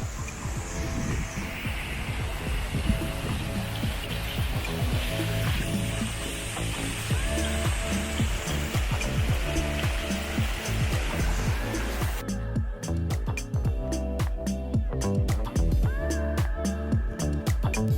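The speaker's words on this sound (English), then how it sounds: "I made it to the bottom of the waterfall." A New Zealand waterfall roars up close in a continuous broadband rush, loud and steady, with the texture shifting partway through as if the listener moves.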